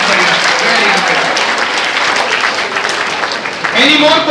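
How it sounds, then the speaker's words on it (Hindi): An audience of students at a scholarship test event claps loudly for a student, dense steady applause throughout with voices mixed in underneath. "ताली बजाओ जोरदार"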